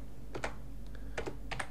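Several separate keystrokes tapped on a computer keyboard during online gas bill payment, a few quick close clicks in short pairs over a low steady hum.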